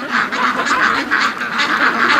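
Several ducks in a snowy backyard quack loudly and close by in steady repeated raspy calls that overlap into a continuous noisy chorus, with no talking.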